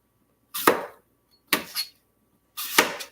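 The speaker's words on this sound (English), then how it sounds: "So I'm just dicing up my apple" An apple being diced with a knife, three separate chopping strikes spaced about a second apart, each a crisp, close impact with a short fading tail, no talking.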